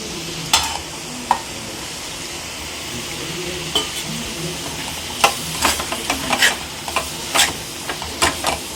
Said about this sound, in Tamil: சேர்த்து நல்லா மிக்ஸ் பண்ணி விடணும்.